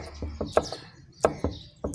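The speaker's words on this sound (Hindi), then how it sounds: "तो ये मैं आपको काट के दिखाती हूँ।" Okra (bhindi) being chopped into pieces on a cutting board, a knife striking in irregular sharp taps, close and clear.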